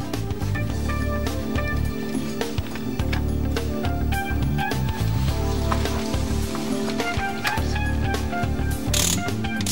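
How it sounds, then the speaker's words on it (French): A ratchet tightens the crankshaft pulley screw on a 2002 Peugeot DV4TD diesel engine, giving a continuous run of rapid pawl clicks and clatter that stays steady and close throughout. "serrez la vis de la poulie de vilebrequin de manière à mettre en contact l'outil et le corps de la pompe à huile."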